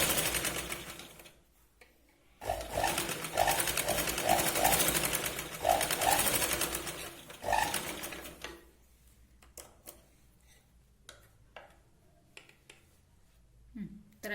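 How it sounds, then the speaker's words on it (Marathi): A sewing machine runs a double line of stitching on a plain katori blouse in rapid bursts, with pauses, clicks and handling noises between runs. "आता या पॉइंट पासून डबल शिलाई लावतोय"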